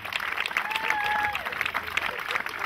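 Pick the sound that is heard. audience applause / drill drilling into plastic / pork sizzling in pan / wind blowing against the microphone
audience applause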